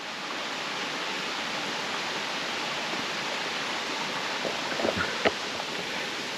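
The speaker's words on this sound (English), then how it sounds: "We got another big waterfall up here." A big waterfall in the Hollow Mountains roars as a steady, broad wash of rushing water, constant and fairly close, with a few faint knocks near the end.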